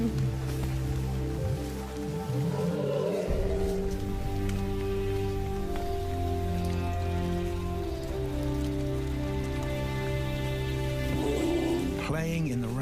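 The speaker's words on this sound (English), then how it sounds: "Playing in the rain," Steady rain falls in a wildlife setting where two lions are out in the weather, a continuous wash of drops heard under a musical score throughout.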